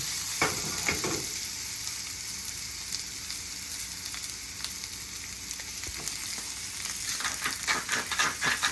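Onions fry in a very hot pan, giving a continuous close sizzle with a few sharp stirring clatters at the start and a busier burst of crackling toward the end.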